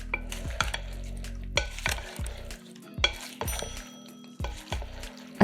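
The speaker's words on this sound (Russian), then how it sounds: "Все перемешиваем." Tomatoes are stirred in a marinade of oil and vinegar, giving repeated wet squelching sloshes and soft clinks of a utensil against the bowl in an uneven rhythm, close and fairly quiet.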